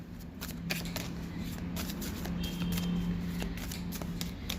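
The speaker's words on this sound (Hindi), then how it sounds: "यहाँ से मैं 2 कार्ड लूँगी।" Tarot cards being drawn from a deck during a reading, giving a string of quick, close papery flicks and slides over a steady low hum.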